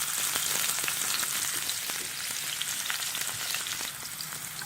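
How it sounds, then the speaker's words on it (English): Chopped garlic and onion frying in hot oil, a steady dense sizzle with crackling pops running unbroken throughout, close and fairly loud, with no voices. "now that my oil is hot, I'm going to add garlic, chopped garlic"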